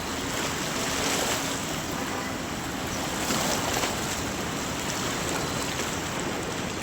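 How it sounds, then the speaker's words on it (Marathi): Rising flood water of the Tapi river near a barrage, a loud, dense, unbroken rush of churning water filling the whole scene, with no voices. "एक पूर प्रकार पाणी आलेलं आहे म्हणजे पूरसारखंच पाणी आलेलं आहे"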